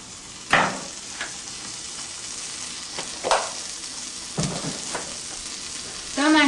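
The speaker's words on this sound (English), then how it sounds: "That's the sizzle sound I like." French toast fries in a pan with melted butter, giving a steady, close sizzling hiss broken by a few sharper clicks and scrapes from the pan, with a brief louder rattle near the end.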